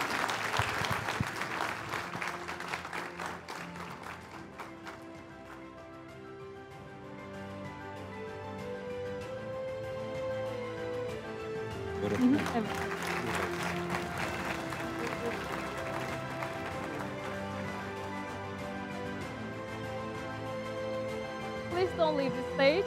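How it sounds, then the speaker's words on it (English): Sustained audience applause at an education summit award ceremony, steady clapping throughout with music playing underneath and a few faint voices, moderately loud and even. "A big round of applause for those young talents, please."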